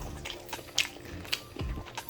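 Crunchy crispy fried chicken being bitten and chewed close to the mic, a few sharp crackling crunches spaced over about two seconds with soft mouth noises between.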